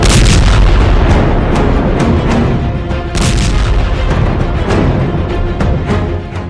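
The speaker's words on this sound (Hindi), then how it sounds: "इसमें ज्यादातर धमाके ऐसे हैं जो हमास की बजाय आम लोगों को निशाना बना रहे हैं" Air strikes hit buildings in Gaza, producing heavy, continuous booming and rumbling blasts, loud and dense with repeated sharp impacts layered over a constant roar, with no voices.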